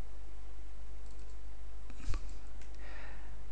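A single computer mouse click, made while changing plugin settings in WordPress, sounds once near the middle as a short, sharp tap over a steady low hum, with no other activity around it.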